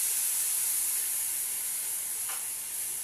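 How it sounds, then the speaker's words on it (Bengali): Soy sauce hits fried potato and cabbage in a hot pan, giving a steady, loud, close hiss and sizzle that holds evenly throughout with no voices. "এতে আমি এখন সয়া সসটা দিয়ে দেবো"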